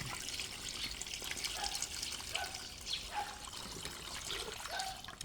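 Water poured into a pot, filling it to boil banana leaf–wrapped rice dumplings, a steady trickle and splash with light clinks, fairly close and moderately quiet with no voices.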